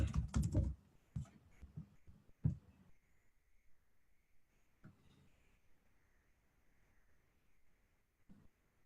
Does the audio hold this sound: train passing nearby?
no